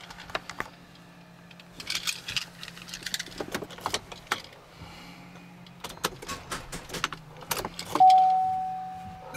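A Chevrolet Suburban with a 5.3L V8 fails to start on a very small, weak motorcycle battery, giving only scattered quick starter clicks in uneven bursts, with faint rattles and a low steady hum underneath.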